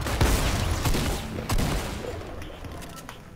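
Rapid drum gun fire in Fortnite, a dense fusillade of shots rattling through the whole short stretch with a fresh burst near the middle, loud and close in a busy game mix.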